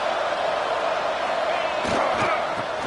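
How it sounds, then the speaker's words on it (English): Stadium crowd in a Madden football video game on PS5: a constant dense roar of cheering fans, with a couple of dull thumps partway through. "Listen to the crowd energy here in the early going."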